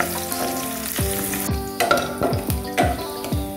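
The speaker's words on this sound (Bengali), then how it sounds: "এখন পেঁয়াজগুলো হালকা ভাজা হওয়া না পর্যন্ত আমি এইভাবে নাড়তেই থাকবো।" Onions for a chicken cheese pasta bake sizzle loudly in a pan while a utensil stirs them in regular scraping strokes about twice a second.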